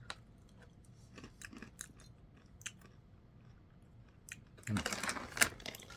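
Ketola Crunch cereal is eaten straight from the bag: faint crinkles and small crunchy bites early on, then louder close chewing and crunching near the end. A voice is also present.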